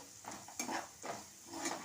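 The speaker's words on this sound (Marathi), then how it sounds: "थोडेसे काजूचे तुकडे यामध्ये घालायचे परतवून घ्यायचे" Cashew pieces are stir-fried in oil, with a few soft scraping strokes of a spoon in a pan over a faint sizzle, quiet and close, no voices.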